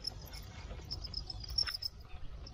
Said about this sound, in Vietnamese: mua dế thịt về anh em nuôi khoảng 1 tuần là nó lột cánh, rồi khoảng chừng 5-6 ngày sau nữa là đẻ anh em